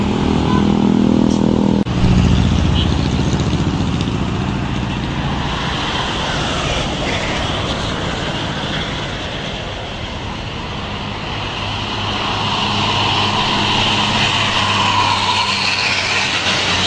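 A long-distance Karunia Bakti intercity bus bound for Garut sweeps past on the road, its loud broad engine roar and whooshing air rising and fading over the whole stretch, with other traffic rumbling nearby.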